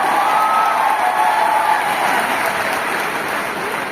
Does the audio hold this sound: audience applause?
yes